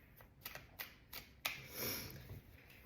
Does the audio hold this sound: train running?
no